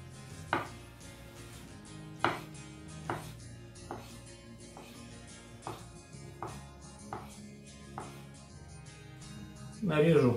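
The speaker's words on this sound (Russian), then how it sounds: "Огурчики нарезаем меленько." A knife finely chops cucumbers on a cutting board, a series of crisp, regular taps over quiet background music, ending with a louder clatter.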